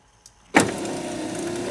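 Electric window motor in a VW Polo door lifting the glass, a steady whirring hum starting abruptly after a brief click and running evenly and close by, with no voices over it.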